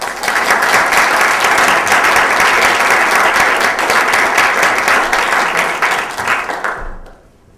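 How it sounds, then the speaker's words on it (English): Sustained applause from an audience at an outdoor-style awards ceremony for green community energy grants, loud and steady for about seven seconds before tapering off abruptly. "And a round of applause."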